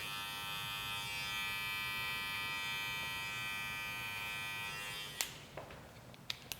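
An electric barber clipper fitted with a number one guide comb buzzes steadily while trimming the corners of a beard near the sideburns, a close, constant high whine that cuts off near the end, leaving a few small clicks.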